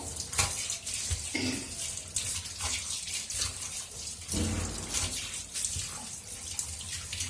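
Dishes being rinsed by hand under a steadily running tap, a continuous splashing water flow with brief clinks and bumps, close and fairly loud, no voices.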